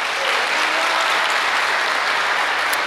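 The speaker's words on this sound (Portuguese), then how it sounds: "você pode aplaudir ao Senhor por isso?" Church congregation applauding, a dense, loud, continuous roar of many hands clapping, steady throughout with no gaps and no talking.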